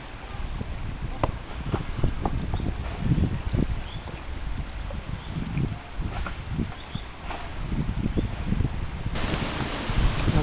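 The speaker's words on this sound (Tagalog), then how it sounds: "sobrang lakas ng hangin" Strong gusty wind rushes through bamboo leaves in a continuous rustling roar, rising and falling, with scattered cracks and snaps among the foliage.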